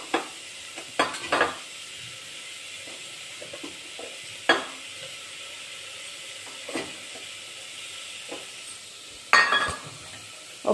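Onions, coconut and soaked chana dal being stirred in a pan, with scattered scraping spoon strokes and clinks over a faint low sizzle, a few louder scrapes standing out.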